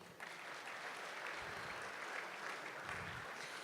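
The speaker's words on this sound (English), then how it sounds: "A big round of applause." A crowd at the launch event for Future City Fourways gives a sustained round of applause, a thick, even wash of many hands clapping that holds at a constant level throughout.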